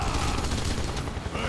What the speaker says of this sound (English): Why am I not shooting at the right spot?